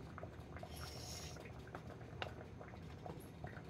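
Fish-head and bottle gourd curry simmering in an uncovered pot, a soft steady bubbling with small pops and crackles, faint and continuous without talk.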